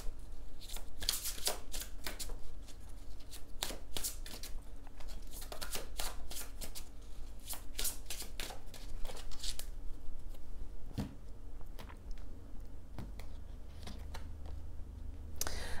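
Tarot cards being shuffled and drawn by hand: quiet, repeated crisp riffles and soft card snaps at an irregular pace, close by and continuing throughout, with no talking.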